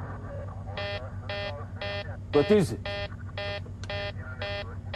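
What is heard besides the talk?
cockpit warning alarm on Helios 522 airliner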